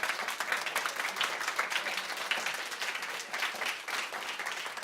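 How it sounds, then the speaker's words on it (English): An audience at a high school poetry recitation contest claps in a sustained, fairly loud round of applause, the dense patter of many hands continuing evenly from start to finish without speech. "let's have one last round of applause for all our reciters today."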